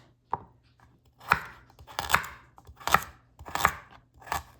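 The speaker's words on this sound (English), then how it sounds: "the only things I'm cutting is the carrots and the onions" A knife chops carrots on a cutting board in a few solid, separated strokes, close and crisp, with short pauses between cuts.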